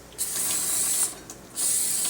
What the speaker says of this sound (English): we are going to spray the surfaces